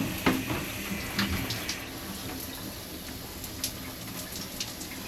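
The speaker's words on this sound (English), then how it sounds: "All right, turn the water on." Water splashes and runs from a shower in a cruise ship cabin at a low level, with a few sharper drips and spatters over a steady faint hiss.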